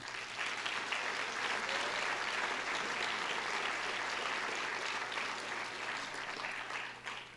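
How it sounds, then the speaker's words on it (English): A debate audience claps in a continuous, even wash of applause that holds steady for about seven seconds at a moderate distance, with a low electrical hum underneath. "Let's give them a round of applause."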